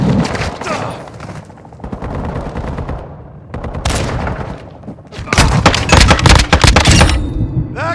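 Rapid automatic gunfire in the Call of Duty: Modern Warfare II video game comes in loud, dense bursts of shots separated by short pauses, with the heaviest barrage near the end.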